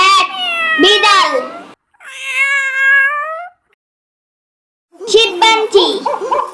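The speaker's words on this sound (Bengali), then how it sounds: "ক্যাট, বিড়াল," A cat gives three loud, close meows, each a drawn-out cry, separated by short silences.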